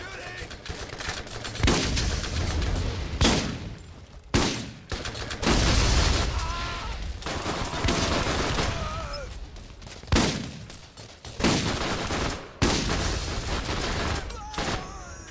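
Repeated bursts of rapid gunfire from the Borderlands video game, as co-op players shoot at bandit raiders, come loud and close in several separate volleys with short gaps between them.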